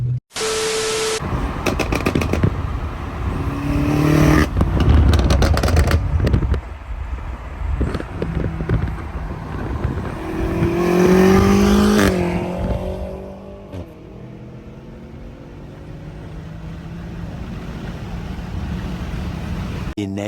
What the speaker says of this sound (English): definitely hear the turbo spool